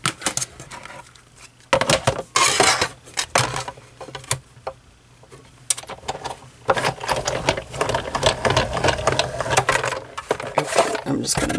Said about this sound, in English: we'll run our piece of Blackberry Bliss through the embossing folder